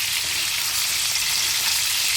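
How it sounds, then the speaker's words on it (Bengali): Bele fish frying in oil in a pan, a steady, dense sizzle that holds close and even throughout with no voices. "দেখতে পাচ্ছ মাছগুলো এক পিঠ ভাজা হয়ে গেছে, আমি মাছগুলোকে আস্তে আস্তে করে উল্টে দিয়েছি।"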